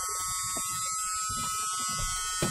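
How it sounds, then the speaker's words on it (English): The warning buzzer inside a 1982 Chevy C30 square-body ramp truck drones steadily at close range, a continuous electric hum with a small bump near the end. "Buzzer's working, got a little juice."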